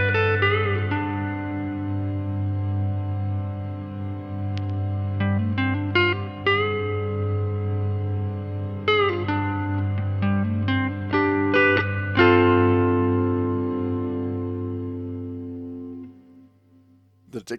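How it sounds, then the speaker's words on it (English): Electric guitar run through a Hotone Verbera reverb pedal with the mix turned up, sustained notes and strummed chords blooming into long washy tails over a low steady hum, decaying away at the end. "If you want to hear reverb on the signal,"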